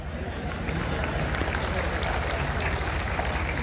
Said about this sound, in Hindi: अरे बेटियां का तालियां बजाओ ज्यादा